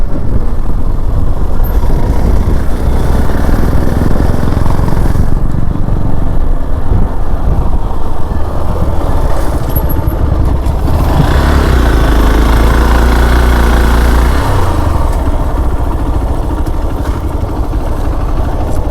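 Loud, continuous rumble of four motorcycle engines running nearby at an off-road spot in Karnataka, the drone rising and falling slightly as revs shift, without any talking.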